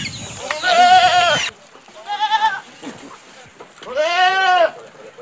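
Three loud, close bleats from Galla goats on a small ranch, each wavering call separated by short pauses, with the last one long and strong.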